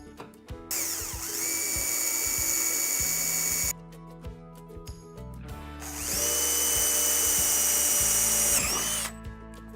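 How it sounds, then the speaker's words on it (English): A power drill with a 3/8 inch bit bores holes through a Hobie Compass pedal kayak hull, two long loud whining bursts of a few seconds each separated by a short pause, close up with no talking. "drill these out with a 3/8 so I can install the pulleys"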